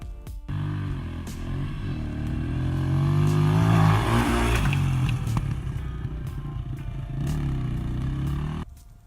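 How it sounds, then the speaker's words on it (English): A 150 pit bike engine revving up and down as it hits a homemade backyard dirt jump, loud close buzzing note climbing, holding, then easing off over several seconds, with no talk. "Here's a video of me hitting it on a pit bike."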